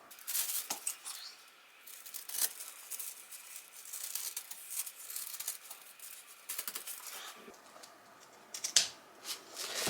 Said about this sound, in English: I need to cut this line, and then, so I cut it all the way up here